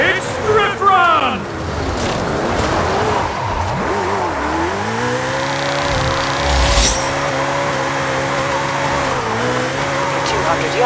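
A car drifts in Forza Horizon 5 with a steady, loud engine drone and tire squeal held throughout, pitch sweeping as it slides, with a voice talking over it and a brief sharp squeal near the start.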